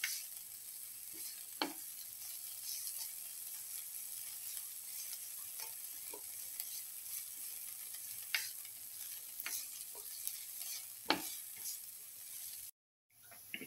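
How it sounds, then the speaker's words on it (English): Onion and bitter gourd fry in a pan with a steady, bright sizzle, broken by a few sharp clicks and scrapes of stirring before the sound cuts off near the end. "Do this until the onion and the bitter gourd are nicely fried."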